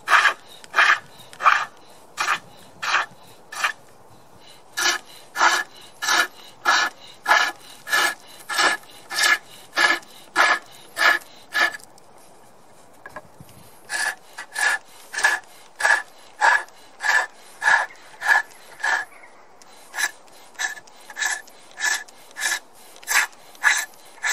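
A spindle gouge cuts wood on a foot-powered pole lathe, shaping a round ball on the end of a spindle: a steady run of rhythmic rasping scrapes, one per treadle stroke, close and loud, with a brief pause midway.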